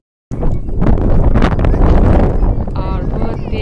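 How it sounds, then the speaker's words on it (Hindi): Strong wind gusting outdoors during the first rain of the season, a loud, broad, continuous roar buffeting the microphone for several seconds, with faint background sounds late in the clip. "बहुत तेज हवा चल रही थी"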